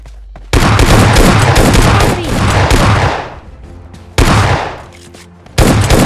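Loud bursts of automatic gunfire in the BGMI battle royale game: one long sustained volley, a second burst, then a brief third burst, each ending in echoing tails.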